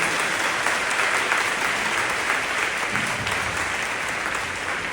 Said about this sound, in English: Please give him a applause